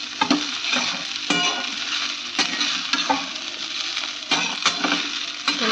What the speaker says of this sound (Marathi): त्यामध्ये जो साबुदाणा आणि शेंगदाण्याचा कूट मिक्स केला होता तर ते यामध्ये टाकून दिलं आणि त्याला छान असं परतून घेतलं